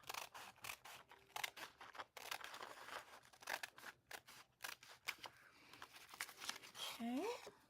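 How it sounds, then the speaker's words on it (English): Scissors trim around a paper ribbon-closure journal booklet in a run of close, crisp snips and paper crinkles, with someone speaking over them. "So I'm going to go ahead and trim around. Make sure I don't cut the closure off."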